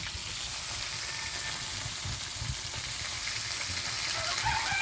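Eggplant and okra, with optional chili, hitting a hot frying pan: a steady, loud sizzle of oil crackling continuously and building slightly toward the end, with no talk.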